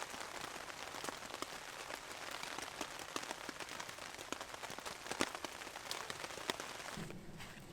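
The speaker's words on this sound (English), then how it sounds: "About 7:15, the rain finally stopped." Steady rain patters on a tent and the surrounding campsite during a solo overnight kayak camping trip at Merchants Millpond, a dense, even hiss broken by heavier individual drops striking close by, with no voices.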